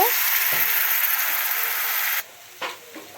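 Water poured onto fried spice paste for a bhola fish curry bursts into a loud, hissing sizzle that cuts off abruptly after about two seconds, followed by a couple of faint clinks.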